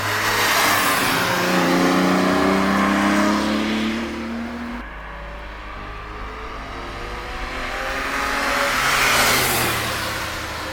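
A Ferrari 330 GTC engine pulls hard through the gears on a countryside drive, revving up strongly, dropping off around the midpoint, then climbing again to a loud rising note before easing.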